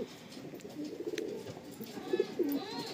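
Pigeons kept in a loft coo softly nearby, low throaty calls rising over a faint background hum.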